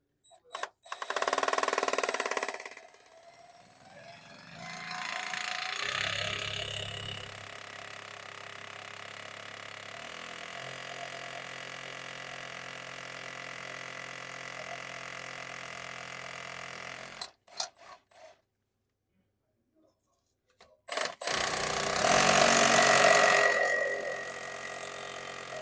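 A drill bores into a house wall to take samples for rising damp testing, whirring loudly in long sustained runs with brief stops and restarts, and rough grinding bursts at the start and end.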